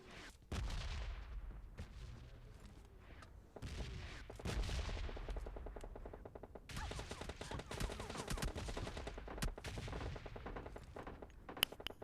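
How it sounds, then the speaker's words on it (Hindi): Gunfire in the mobile battle-royale game PUBG Mobile Lite: bursts of rapid automatic shots and single-tap rounds in several loud runs separated by brief pauses, close and sharp with no talking. "मेरे को यहाँ से कोई बंदा मेरे को ऊपर फायर कर रहा था"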